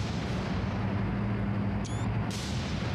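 Battleship salvos firing in the War on the Sea naval game, set around Iron Bottom Sound: a sustained, heavy rumble of big-gun fire, loud and dense throughout, with a faint ringing tone near the end.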